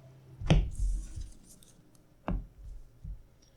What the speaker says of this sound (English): a few more shuffles over here